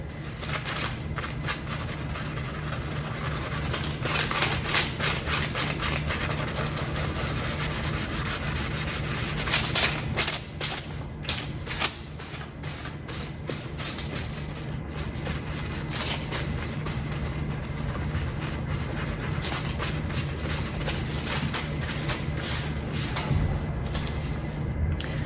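Steady rubbing and scrubbing of hand sanitizer into a paper store receipt, a continuous close papery friction with brief pauses, heard alone without any talking.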